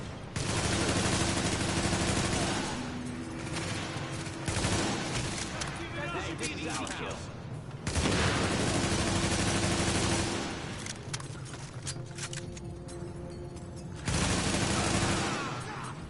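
Gunfire in Tom Clancy's The Division on PS4, loud bursts of automatic rifle fire and shots in repeated volleys with brief pauses, mixed with shouting voices during the firefight.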